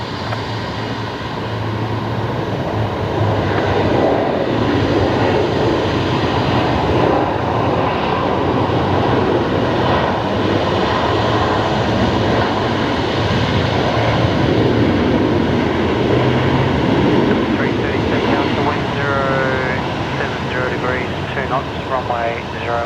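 Velocity Boeing 737 jet engines at Brisbane Airport, a loud sustained roar rumbling throughout for over twenty seconds, with people talking underneath.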